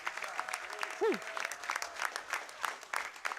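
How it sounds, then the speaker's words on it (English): An audience at a town council meeting keeps up steady, moderately faint clapping, with one voice letting out a short whooping cheer partway through. "Keep those claps going."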